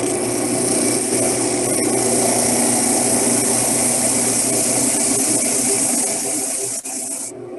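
A disc sander runs steadily while a segmented wood piece is pressed flat against the sandpaper, giving a loud, continuous motor whine with grinding hiss that cuts off near the end, with no talking.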